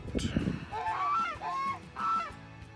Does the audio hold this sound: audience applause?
no